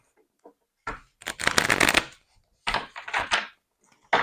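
Tarot cards shuffled by hand in several quick riffling bursts separated by brief pauses, close and crisp, ending with a short snap as a card is drawn.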